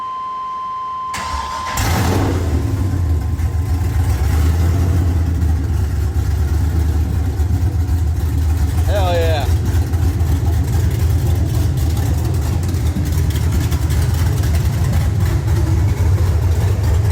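An OBS Ford truck engine fitted with a Holley carburetor cranks and catches on its first start, then settles into a loud, rough, steady idle and revs up close by, a brief squeal rising briefly midway.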